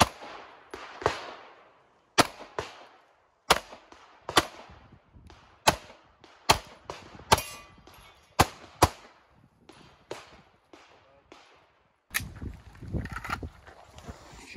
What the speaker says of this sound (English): Basically, you shoot this little steel here